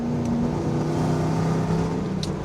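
A heavily modified Land Rover Defender engine rumbles at steady idle-to-revving pitch, a loud, continuous low drone with tonal harmonics close by, no voices over it.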